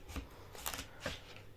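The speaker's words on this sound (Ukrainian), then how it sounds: "Беремо наш кабачок, відрізаємо хвостик і попку." A knife trims the ends off a zucchini in a home kitchen, giving a few quiet, separate crisp cuts and taps against the board, spaced unevenly with soft room noise between them.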